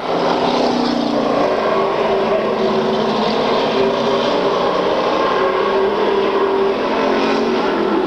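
Stock race cars with Monte Carlo bodies roar steadily through the turns on an oval, a loud, continuous engine drone from several cars at once that stays dense and unbroken, with no pause and no voices.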